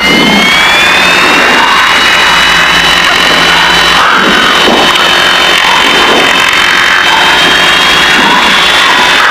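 Twin engines of a Piper Seneca running up together to 1500 RPM with the brakes held, a loud, steady, unbroken drone with a high whine on top that fills the whole stretch without pause.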